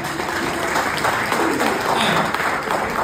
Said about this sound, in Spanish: Gracias, gracias, un aplauso.